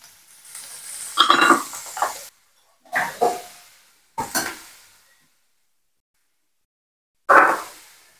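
Mustard seeds hit hot oil for a Tamil dry fish curry, giving short bursts of crackling sizzle in a pan, loud and close, separated by silent gaps, with a final sharp burst near the end.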